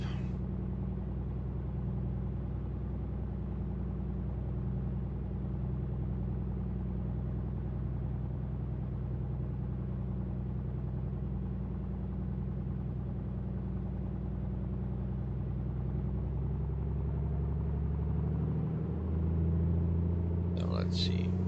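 Light aircraft piston engine held at 2000 RPM during a run-up check on the runway, a steady loud droning hum throughout with a pilot speaking over it.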